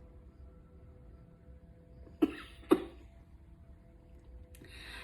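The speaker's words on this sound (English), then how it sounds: "When you hear me cough" Two short, sharp coughs close together, fairly close to the mic, against a quiet room hum, followed by a brief rustle.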